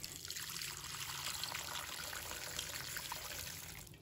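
A lemon is rinsed in a bowl of clear water after its waxy peel has been rubbed clean, giving a steady close trickling and sloshing of water throughout with no talk.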